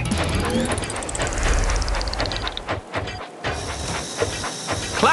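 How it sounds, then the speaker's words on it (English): A steam locomotive from a Thomas & Friends video game lets out a loud, sustained hiss of steam, with clanking rail sounds beneath and a brief dip near the end. "Clear the tracks! Engine coming!"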